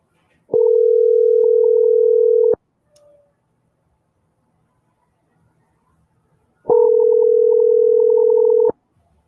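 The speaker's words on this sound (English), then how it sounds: "let me know if y'all can hear ringing" A telephone ringback tone on an outgoing call: two long, steady single-pitch tones about two seconds each, separated by roughly four seconds of silence, clear and close.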